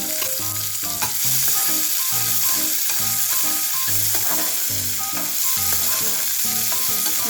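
Chopped onion sizzles steadily in a hot pan, a dense, continuous frying hiss with a faint tonal background and gentle rhythmic pulses of stirring throughout.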